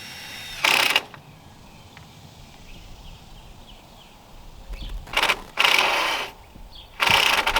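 A screw driven into an overhang rafter on the back side of a garden structure, heard as three separate bursts of a whirring, ratcheting driver, each about a second long, with quiet outdoor background between them.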